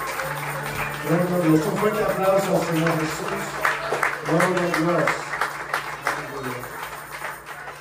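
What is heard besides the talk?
church congregation applause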